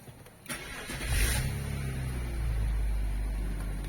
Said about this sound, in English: Let's start the car, so you will see everything works good